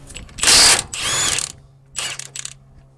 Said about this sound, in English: First thing I'm gonna do is loosen and remove all of the bolts and hardware.